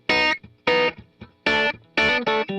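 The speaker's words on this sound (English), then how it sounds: "So here's totally dry." Electric guitar played completely dry with no effects, a handful of short, clipped chord stabs separated by brief silences, each cutting off cleanly with no lingering tail.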